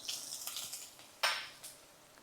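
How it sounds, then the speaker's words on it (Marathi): Boiled potato and a little turmeric go into hot oil in a pan over low heat for Kolhapuri misal, giving a soft sizzle with faint scraping and clinks of a stirring spoon. "ह्यामध्ये थोडीशी हळद टाकायची आणि हा उकडलेला बटाटा टाकूया"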